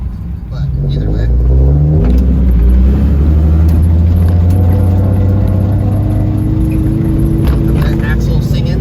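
Car driving along the street with its axle singing, a loud steady droning whine and engine rumble that rises after a gentle start and holds throughout, recorded from inside the vehicle.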